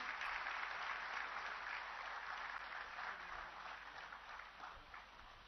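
Steady applause at a Punjab government appointment-letter ceremony where young recruits receive their letters; a continuous, even wash of many hands clapping, fairly faint and distant, with no speech over it.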